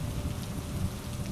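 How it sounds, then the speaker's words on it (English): Rain falls steadily in the survival game Cataclysm: Dark Days Ahead, a dense constant patter with low rumble underneath, even and close throughout with no speech. "I shouldn't be standing around out in the rain."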